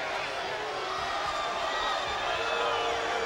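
Basketball arena crowd noise at a Midwestern State game, a steady roar of many voices rising slightly toward the end, with a commentator talking over it.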